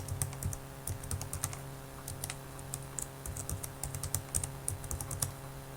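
Password being typed on a computer keyboard, a fast run of crisp, close key clicks with uneven rhythm and brief pauses, over a faint steady hum and no voices.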